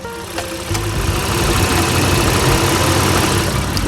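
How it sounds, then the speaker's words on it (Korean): A Honda Pilot SUV's steady, low engine rumble idles evenly and continuously, fairly close, with a faint high whine on top and no talking. "엔진룸 개폐했습니다. 엔진음 들어보시죠."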